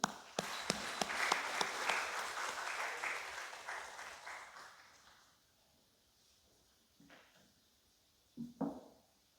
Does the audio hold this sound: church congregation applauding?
yes